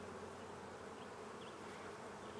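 Honeybees buzzing around an open hive during an inspection, a continuous soft drone with faint individual bees flitting past now and then, steady and without voices.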